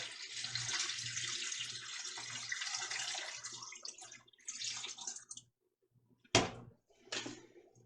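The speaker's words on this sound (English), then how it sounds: "all I'm gonna do is I'm gonna just pour in water until all of my vegetables are just barely covered with" Water poured from a tap over a turkey carcass and vegetables in a pot for broth: a steady hissing stream for several seconds, then shorter splashing bursts and a sharp clatter near the end.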